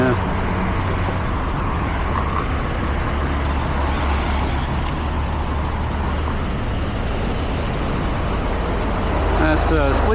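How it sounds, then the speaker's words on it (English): A sleeper bus moves through busy street traffic in Phitsanulok, Thailand, heard from a bicycle at the roadside. Engine and tyre noise forms a continuous loud roar, with a brief hiss near the end. "That's a sleeping bus."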